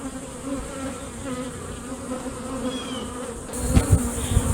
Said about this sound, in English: So when you think about honeybees and their jobs, you think of the forager bee.